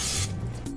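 A brief hissing burst of cooking spray hits the grid of a Waring Commercial WWCM180 waffle cone maker, loud and close at first, then trailing into a softer rubbing sound.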